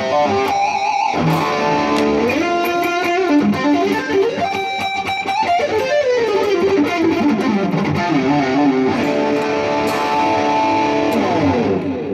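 Distorted electric guitar lead tones run through a Flamma FX100 multi-effects unit, a loud, continuous stretch of sustained melodic lines and bends with chorus-tinged shimmer, played alone with no talking.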